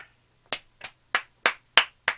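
Six sharp, evenly spaced claps ring out alone at close range, each a crisp burst with a quick decay, following the close of a Twelfth Night performance.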